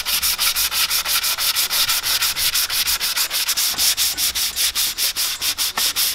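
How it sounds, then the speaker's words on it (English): A car dashboard being sanded by hand with 180 grit sandpaper, a loud, rhythmic rasp of quick back-and-forth strokes repeating steadily for about six seconds, with no voices. "I'm just going to sand on this and just see how it's going."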